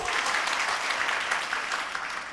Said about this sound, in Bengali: জোরে তো করতালি দেন তো